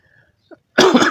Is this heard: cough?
yes